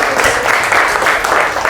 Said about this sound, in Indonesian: Sudah cukup tepuk tangan buat kalian semuanya.